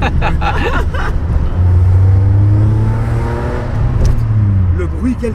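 Engine of the car from the Taxi film, a tuned road car, droning loud and steady with revving swells, rising in pitch as it pulls away, with people talking over it.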